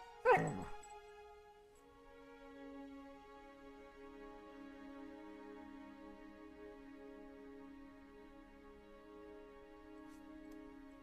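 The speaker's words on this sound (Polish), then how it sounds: "dobry pies" A dog gives a sharp yip up close, then sustained high whimpering whines drawn out over several seconds, fairly quiet.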